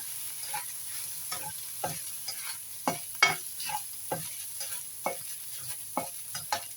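Rice stir-fried in a pan for tuna fried rice, with a steady sizzle and about a dozen sharp scraping strokes of a spatula coming in an irregular rhythm, close and fairly quiet.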